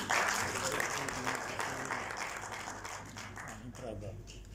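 An audience at an award ceremony claps in a dense burst that starts loud and slowly fades over several seconds, with a voice speaking over the applause.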